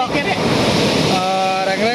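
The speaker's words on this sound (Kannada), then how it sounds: "ಅಚ್ಚಿಗ್ರಳ್ಳಿ ಕೆರೆಯಲ್ಲಿ ಬೇಜಾನ್ ತುಂಬಿ ತುಳುಕ್ತಾ ಇದೆ ನೀರು" Water from Achchigrahalli lake near Ramanagara, overflowing during heavy rain, rushes loudly in a constant broadband roar while a voice speaks over it.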